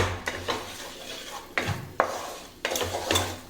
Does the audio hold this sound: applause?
no